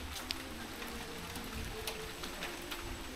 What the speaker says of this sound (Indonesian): Hujan lah.